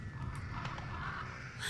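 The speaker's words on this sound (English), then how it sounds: "They ain't got crows for no damn reason." Crows caw in the horror video game Remothered: Broken Porcelain, a few harsh calls sounding moderately near over a low ambient drone, with no talking.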